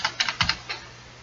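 Keystrokes on a computer keyboard while entering accounting data, a few quick clicks in two small bursts, close and moderately loud, then quiet.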